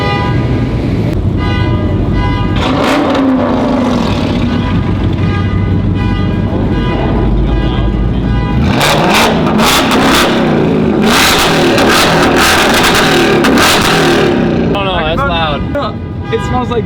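Sports car engines rev loudly at a canyon rally start among Porsches and Shelbys, a deep throaty roar swelling and falling with sharp bursts, a horn toot and people shouting nearby.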